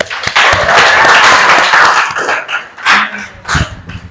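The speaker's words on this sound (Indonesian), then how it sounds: "beri tepuk tangan kepada dia" Students in a classroom applaud a classmate, a loud burst of group clapping that thins out into scattered claps and voices toward the end.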